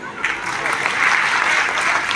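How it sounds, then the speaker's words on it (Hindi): Audience at a state-level government event for World Sickle Cell Anaemia Day clapping together in a burst of applause that swells and holds, loud and close, with faint voices mixed in. "आपके लिए ताली बजा दो।"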